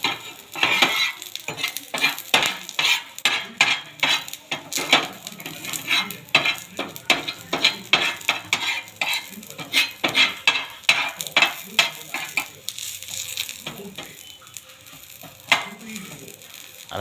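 Small onions sizzling on a hot dosa griddle, with rapid repeated scraping and tapping of a spatula against the iron surface over a bright, steady crackle, close and fairly loud, no talking.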